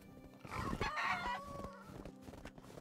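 Chickens cluck and crow in the farm game Medieval Dynasty, a burst of overlapping fowl calls that swells then trails off into scattered softer clucks, fairly quiet and without talking.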